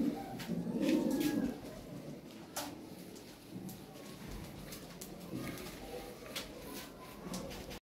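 A running pair of farm pigeons gives a low, throaty coo early on, then falls quiet. Faint ambient noise and scattered soft clicks fill the rest of the stretch.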